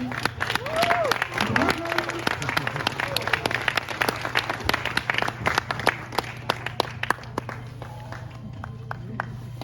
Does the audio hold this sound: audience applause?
yes